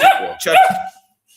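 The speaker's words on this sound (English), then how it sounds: "I apologize about the barking, gang." A beagle and shepherd mix dog gives a short pair of loud, close barks indoors, ending abruptly in near silence.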